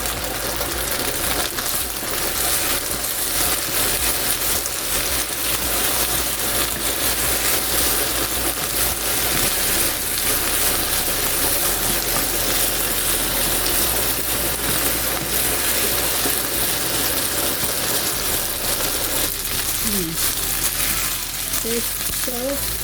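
Ginger and garlic sizzle hard in a hot pan with a steady, dense crackle that runs the whole time, and a spatula scrapes and stirs now and then.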